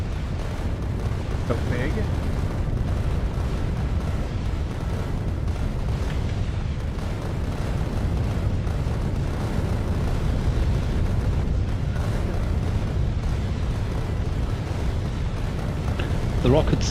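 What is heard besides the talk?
rocket and gun turrets firing, explosions, from video game Factorio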